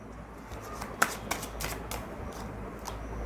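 Tarot cards shuffled and flicked during a reading, giving soft papery riffles and small snaps, with one sharp slap near the start, over a steady low background hiss.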